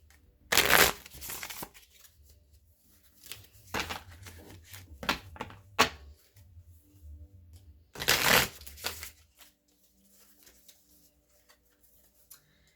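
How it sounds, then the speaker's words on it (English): Osho Zen Tarot cards being shuffled on a table, with a few brisk riffling bursts separated by quieter handling and soft tapping, close and fairly quiet, no talking. "I'm going to use the Osho Zen Tarot to clarify your cards on the table here."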